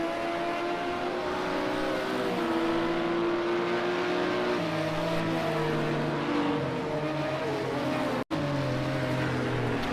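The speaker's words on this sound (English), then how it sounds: "We're on board with Rudy, and you could just hear the tone of this V6 compared to the other guys in the V8s." A V6 LMP2 racing car engine in a sim racing game drones loudly and steadily on board, its pitch stepping up and down through gear changes, with a brief dropout near the end.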